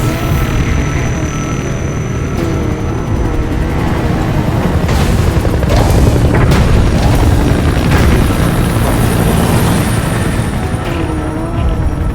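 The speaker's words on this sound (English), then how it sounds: "Support helicopter requested." A support helicopter's rotor thrum in the video game Metal Gear Solid V: The Phantom Pain drones loud and steady throughout, with booming blasts and sharp gunfire-like cracks layered on top.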